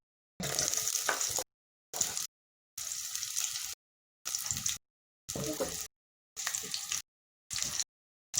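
Onions dropped into hot oil in a pan while cooking matoke in peanut sauce, sizzling in short bursts separated by complete silence, fairly close.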